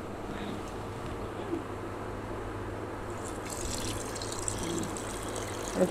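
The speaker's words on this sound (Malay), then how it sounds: "Okay, kita masukkan air sikit." Water is poured into a pan of simmering fish curry, a steady close trickle and gurgle over a low continuous cooking hiss, with no talking.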